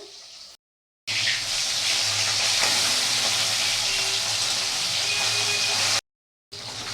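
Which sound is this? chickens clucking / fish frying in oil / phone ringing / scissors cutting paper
fish frying in oil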